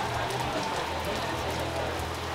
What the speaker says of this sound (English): And we've been rained out.